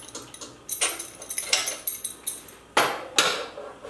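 Spindle lock bolt and tool change on a PM25 milling machine: a quick series of light metallic clicks, taps and clinks, close up, with two sharper knocks near the end.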